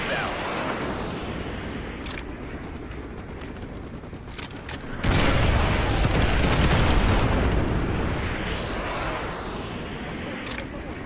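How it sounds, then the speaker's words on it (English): Artillery strikes land in Call of Duty Modern Warfare 2 Remastered, a rumbling barrage of booms and crackling bursts that swells sharply midway, loud and dense with scattered sharp pops. "Ramirez, use your laser designator to call in artillery on those vehicles."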